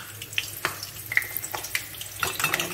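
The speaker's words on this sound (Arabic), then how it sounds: "نبدا نروح نغسل يديا" Hands scrub under a running kitchen tap between steps of cooking an eggplant and meatball tajine. The water splashes close and steadily, with a few sharper drips and clinks.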